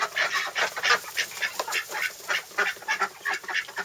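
Khaki Campbell ducks quack repeatedly in a coop, a rapid, fairly close series of honking calls overlapping in uneven bursts with no talk.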